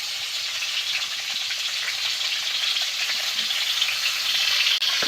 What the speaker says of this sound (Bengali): পটলটাকে আমি একটু ভালো করে ভেজে নেব।